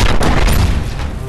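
Gunfire in the mobile game Cookies Must Die, a loud, close burst of booming shots that fades slightly over a second.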